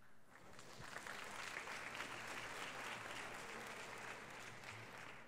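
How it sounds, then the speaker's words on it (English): An audience at a Yoga Day celebration at the United Nations applauds after a performance, a faint but sustained wash of clapping with a low hum underneath. "May I ask another round of applause for Swami Paramananda and his team from Siva"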